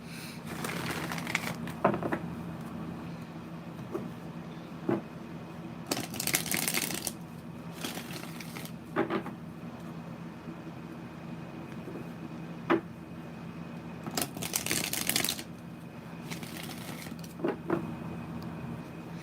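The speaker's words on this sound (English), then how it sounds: "Let me shuffle, shuffle, shuffle." Tarot cards are shuffled during a live reading, with several soft, rustling bursts of riffling separated by quieter handling and small taps.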